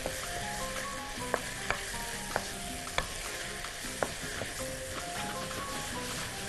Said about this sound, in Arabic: هحط معاه رشه عصير ليمون، معلقه لازم من عصير الليمون، ونقلب كويس